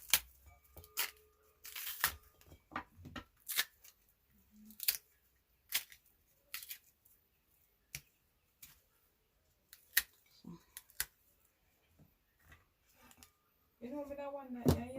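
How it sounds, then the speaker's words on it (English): Plantains being peeled by hand for Jamaican plantain porridge: a scattered run of soft, sharp snaps and tearing rubs with quiet gaps, close by, then a voice at the very end. "So just peeling the plantains."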